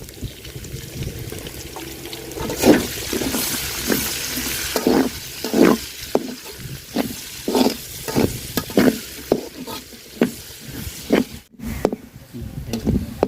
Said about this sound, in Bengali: পেঁয়াজটা আমি লাল লাল করে ভাজা নিছি